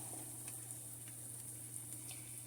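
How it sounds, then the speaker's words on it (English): Steady, faint sizzle of schnitzel frying in a hot pan, a soft continuous crackle with occasional small pops and no talking. "throw a couple of them in there and watch them sizzle"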